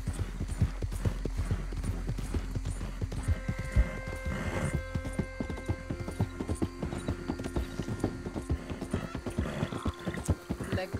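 Hooves of a horse in a video game clip-clop steadily at a walking pace, with a brief whinny partway through and soft talk faintly underneath.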